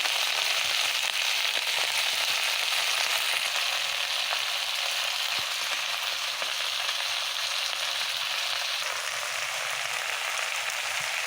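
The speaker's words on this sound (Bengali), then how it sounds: "এখন আমি সুন্দর করে কেটে রাখা সবুজ কালারের পুঁইশাকগুলো দিয়ে দিচ্ছি" Chopped Malabar spinach hits a pan of fried potatoes, setting off a steady, even sizzle of hot oil that carries on continuously with faint stirring scrapes mixed in.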